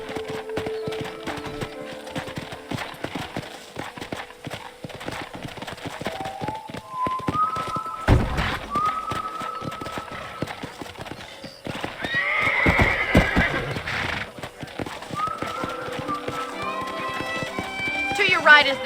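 A horse in the Red Dead Redemption video game clip-clops along under a rider with a brisk hoof rhythm and lets out a loud whinny partway through, mixed with game music and spoken dialogue.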